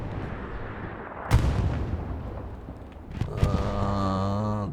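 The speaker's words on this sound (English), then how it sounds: "That sounded like a vision strike actually." Two heavy booms from an artillery strike in the World War II shooter on the Utah Beach map, at about one and three and a half seconds, each followed by rumbling debris, with a tonal whine rising near the end.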